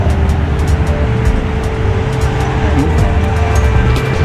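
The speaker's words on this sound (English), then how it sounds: "There's another hot rod coming into town." A hot rod rumbles into town at a car show rod run, its engine a steady, loud low-frequency drone over continuous street and traffic noise.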